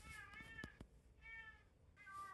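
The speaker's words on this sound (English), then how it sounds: "I want to apologize if you can hear my cat in the background." A pet cat meows to be fed in a quiet room, three drawn-out, faint meows spaced across a couple of seconds with light rustling at the start.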